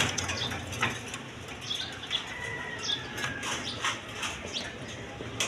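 Breeding pigeons, thick-beaked males and females, flutter and flap their wings nearby in repeated soft bursts over a steady hiss, with faint chirps mixed in.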